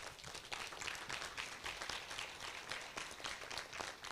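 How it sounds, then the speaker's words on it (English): An audience at a gathering honoring a group of students breaks into a round of applause: a dense, steady wash of many hands clapping that holds at an even level for the whole stretch, with no voices over it. "So I want to, if we can give a round of applause."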